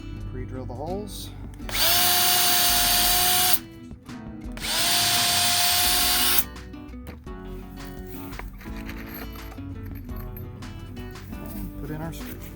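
A power drill boring screw holes through a corner piece of a raised garden bed, two loud sustained whining bursts of about two seconds each, followed by quieter handling clatter.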